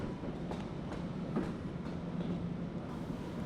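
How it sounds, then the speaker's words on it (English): Low rumbling of a train idling with doors open at a New York Penn Station platform, with a few faint metallic clicks and clanks over a steady background hum. "The train doors are still open. The train's still there."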